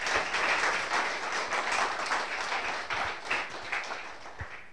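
A church congregation applauds the Lord, dense clapping from many people that starts loud and gradually thins into scattered claps toward the end.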